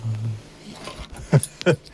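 A bunch of keys jangles near a VW Type 2 ignition switch, two short metallic bursts standing out from faint background hum and a brief low voice.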